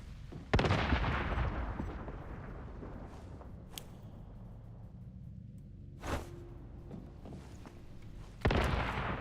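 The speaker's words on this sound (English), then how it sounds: "Oh, I do have a shrapnel grenade." A shrapnel grenade blows up in the survival shooter Once Human, one of several sharp blasts set against ongoing gunfire and a loud rumbling combat backdrop.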